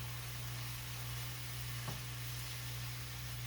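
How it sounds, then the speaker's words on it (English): Kale hits a hot pan and sets off a steady, even sizzle, a close and continuous hiss with a low hum underneath and no voices. "Now I'm going to add some of this kale."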